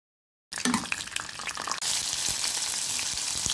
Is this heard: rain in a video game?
no